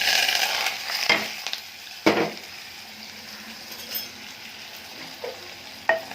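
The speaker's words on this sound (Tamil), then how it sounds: "தேவையான அளவு உப்பு போட்டு தாளித்து ஊற்றுறேன்." Onion, curry leaves, green chilli and shrimp sizzle and fry in hot oil as a tempering for jackfruit, with a steady crackle broken by a few louder scrapes and clinks of a spoon stirring the pan.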